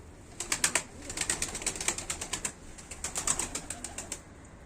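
Rapid wing flaps of a pigeon come in repeated rhythmic bursts while it flies and comes in to land during training, fairly close and moderately loud over a steady outdoor background.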